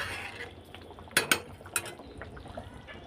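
Cooked fish curry being ladled into a bowl in a home kitchen, with a few sharp metal-on-dish clinks and scrapes near the middle over a faint wet background.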